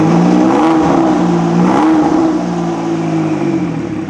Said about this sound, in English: You can just hear those turbos whistling